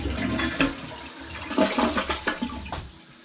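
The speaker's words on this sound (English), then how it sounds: "It's a little over a gallon flush, I guess." A shop toilet with a little over a one-gallon flush rushes and gurgles with close, continuous water noise for several seconds, and no voices are heard.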